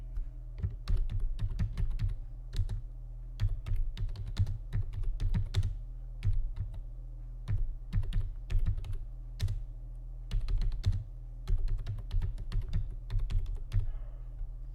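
Rapid, uneven clatter of computer keyboard keys as text is typed, bursts of clicks with short pauses over about fifteen seconds, close and clear with no voices.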